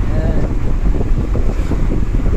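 Strong wind roars steadily outdoors, buffeting the microphone with a loud, continuous low rumble and no pauses.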